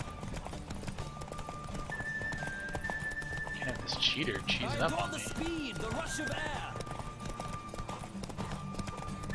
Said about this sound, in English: Horse is gonna tire out right at the end.